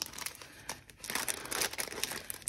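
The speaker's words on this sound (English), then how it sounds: "I'm gonna have to rip this, huh?" Paper and plastic packaging on birthday mail being ripped and crinkled open, close and loud, with bursts of crackling tearing and rustling throughout.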